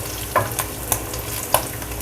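Small shisamo fish frying in hot oil, a steady close sizzle with a few sharper pops and stirring clicks, no voices.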